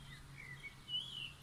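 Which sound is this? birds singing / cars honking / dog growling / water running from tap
birds singing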